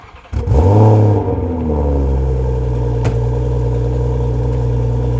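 A BMW M340i engine cranks and fires up with a loud rev that sweeps up and settles into a deep, steady idle, close and alone.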